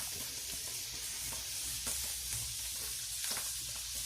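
Onions frying in oil with semolina in a pan, a steady broadband sizzle with soft stirring scrapes, close and continuous with no talk.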